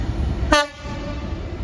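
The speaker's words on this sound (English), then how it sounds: "We've got a freight and engineers train." A freight train on the West Coast Main Line sounds one short, sharp horn blast over the steady rumble of rolling wagons, the rumble continuing after the horn stops.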